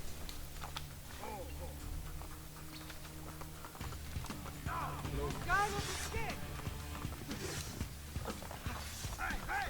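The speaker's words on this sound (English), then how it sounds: "Come on, horsey. Go, go, go." Hooves of a galloping horse in Assassin's Creed 2 clop in a quick, steady rhythm, moderately close, running under a game soundscape while a person talks over it.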